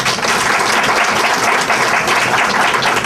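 Audience applause at an Arkansas Black Hall of Fame Foundation grant ceremony, a dense, loud, sustained round of clapping filling the room without letup.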